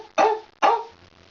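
A person imitates a dog with two sharp, close bark-like yelps in quick succession, then falls quiet.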